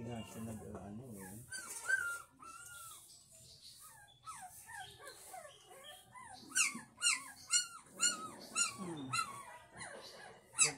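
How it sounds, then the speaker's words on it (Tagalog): Puppy whimpering in high, thin whines and yelps, several short cries rising into a run of rapid squeals near the end, heard close with people talking around it. "Iiyak na ang tuta mo."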